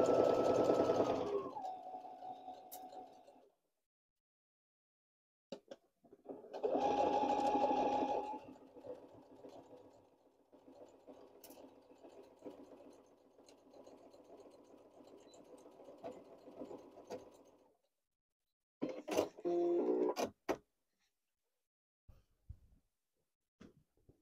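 A Baby Lock Brilliant sewing machine stitches a skirt in stop-start bursts of a steady motor whir, close and clear, with quiet pauses between runs.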